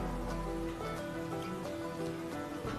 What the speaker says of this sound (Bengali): এখন এগুলোকে একটু ভালো করে ভেজে নিব যাতে ফ্লেভারটা বের হয়